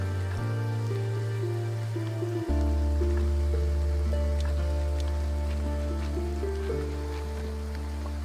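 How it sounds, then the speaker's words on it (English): Rain falls steadily in the video game Graveyard Keeper, a continuous soft hiss of droplets set under layered sustained music tones that shift partway through. "The rain sounds are amazing."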